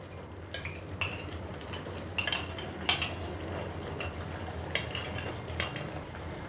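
A spoon clinks against a pan and the ghee container as about a tablespoon of ghee goes in for a potato curry, with sharp scattered taps over a low background hum and no voices.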